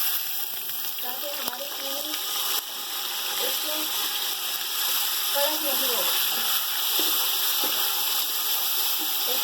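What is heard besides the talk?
cup of water poured into pot with sugar for zarda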